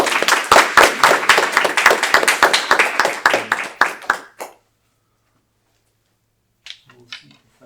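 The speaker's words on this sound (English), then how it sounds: "let's give a big round of applause to Gaurasundar" A small audience at a Bhakti Night gathering claps for about four seconds, individual hand claps distinct and close, then the clapping stops dead into silence before a few faint scattered sounds near the end.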